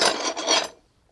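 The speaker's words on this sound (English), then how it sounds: "let's give you a little montage of me carving up these pontoons" A rat tail file rasping across a wooden kayak pontoon being carved, two quick close scraping strokes that stop abruptly and leave near silence.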